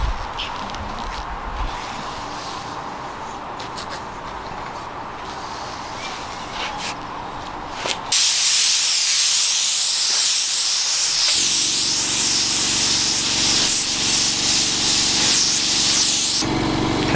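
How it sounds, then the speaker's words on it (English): A spray gun lays blue base coat onto a VW Caddy MK3 siderail cover, a steady loud hiss that jumps sharply louder halfway through and runs continuously without talk. "So now it's time for some blue base coat to be applied to it."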